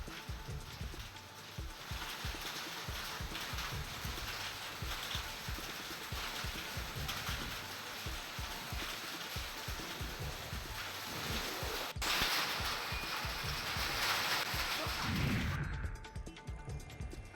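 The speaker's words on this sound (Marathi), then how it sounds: "मुरबाड तालुक्यात गारपिटीसह झालेल्या मुसळधार पावसाने हजेरी लावली आहे." Heavy rain with hail in Murbad taluka, a dense, continuous roar of drops and pellets hammering hard surfaces with rapid knocking, steady throughout and swelling slightly near the end.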